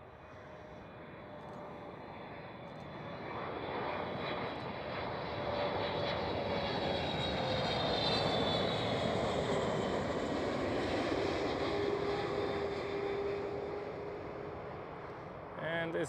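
A KLM Boeing 777-300ER arriving at Schiphol runway 06 roars past at a distance, its jet noise swelling steadily and peaking midway before easing slightly, with faint voices underneath.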